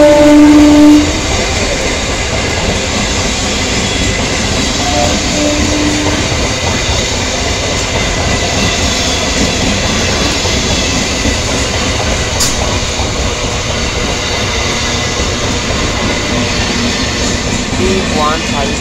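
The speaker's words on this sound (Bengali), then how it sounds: "31522 down Shantipur Sealdah local Shyamnagar rail station platform number 2-তে আসছে।" The 31522 Down Santipur–Sealdah local train pulls into platform 2 at Shyamnagar railway station with a steady, loud rolling roar, a brief horn at the start and a voice heard under the rumble.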